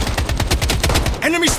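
Rapid automatic gunfire from an AK-47 in the shooter game Project BloodStrike, a dense burst of repeated shots that stops briefly, followed by a rising electronic game tone.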